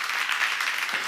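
A church congregation claps together in a brief, dense burst of applause, steady and fairly close, with no voices over it.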